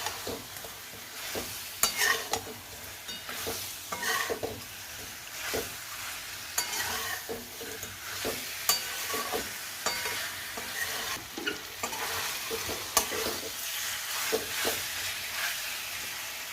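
Fried chicken pakoras being stirred into a sizzling sauce for chilli chicken, with repeated scraping strokes of a spoon against the pan over a steady frying hiss, close and fairly loud.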